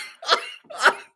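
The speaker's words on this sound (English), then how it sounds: "Excuse me for coughing." Two quick, breathy coughs from one person, close to the microphone, separated by a short pause, with no speech around them.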